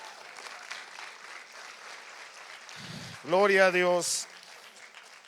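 A church congregation claps in a sustained, moderately loud wash of applause for the first few seconds, then a voice speaks over the fading clapping.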